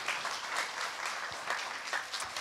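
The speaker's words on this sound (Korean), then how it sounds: "우리 모두를 위해서 같이 박수 한번 칩시다." An audience at a civic debate forum in Gwangju applauds, producing a steady, even wash of clapping that is fairly faint and distant throughout.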